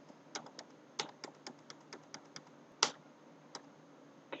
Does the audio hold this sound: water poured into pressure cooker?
no